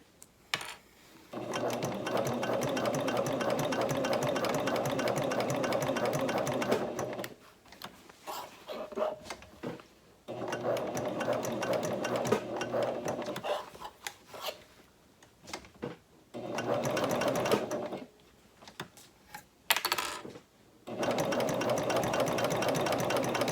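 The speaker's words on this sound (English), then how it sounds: "I'm just going to do a basting stitch along the outer edge" Sewing machine running a long basting stitch along the edge of a tote bag's zipper pocket: steady, close mechanical whirring in long runs, stopping and restarting several times with short quiet gaps.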